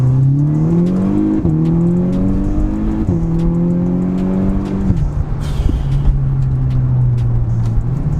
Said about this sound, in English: let's have a little feel of this, the flappy paddles on this gearbox. Down to second, down to first.